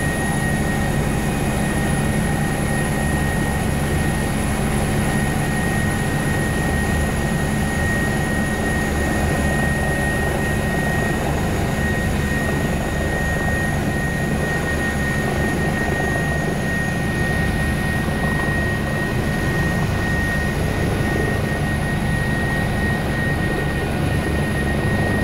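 A loud, steady helicopter roar with a constant rotor and engine drone as it lands on a ship in Antarctica, close by and unbroken throughout, no voices.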